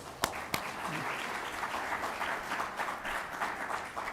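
An audience at a book launch applauds steadily throughout, with a few sharp, close claps near the start and a dense wash of clapping following.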